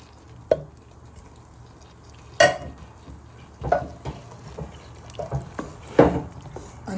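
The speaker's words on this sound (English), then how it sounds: "You now want to add in your chopped tomatoes." Chopped tomatoes being added to a sausage, bacon and bean casserole make a few separate wet plops and clatters over a faint bubbling background, close by and with no voices.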